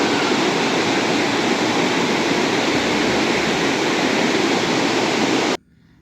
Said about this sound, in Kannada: ಇದು ದೇವಸ್ಥಾನದ ಹಿಂದುಗಡೆ ಒಂದು ಚಿಕ್ಕ ಜಲಪಾತ